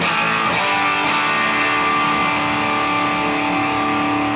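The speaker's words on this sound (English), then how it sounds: "Listen how much distortion we're getting already, and it's only a 3." A heavily overdriven electric guitar chord through stacked JHS Sweet Tea and Strymon overdrive pedals, gain set at only 3, rings out loud and sustained, thick with distortion, after a couple of brief picked attacks.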